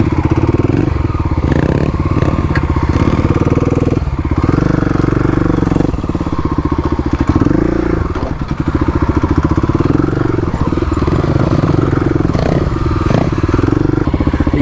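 A 35 HP Kawasaki KLX351 dirt bike ridden hard along an off-road trail with jumps, its engine loud and steady throughout with rattling clatter over rough ground.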